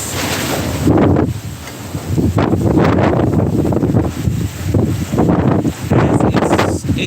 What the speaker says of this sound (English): The wind is strong.